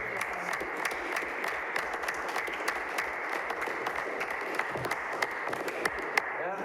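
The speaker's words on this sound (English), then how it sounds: "everybody should clap for that because it was well done" Scattered clapping from attendees at a town board meeting, a moderate steady patter of many hands heard from across the room, with a few sharper claps standing out.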